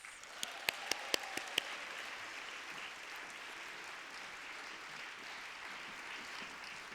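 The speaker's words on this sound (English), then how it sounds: "please, big round of applause for Nadine Williams." Audience applause for a poet at an evening event honouring Black Canadian trailblazers. A few sharp individual claps come first, then a steady wash of crowd clapping continues evenly to the end.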